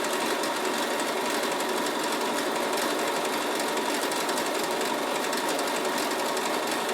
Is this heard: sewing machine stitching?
yes